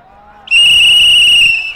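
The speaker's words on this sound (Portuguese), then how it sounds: "tu joga e eu apito" A referee's whistle at an amateur football match gives one loud, steady shrill blast of about a second, preceded by a brief faint low tone.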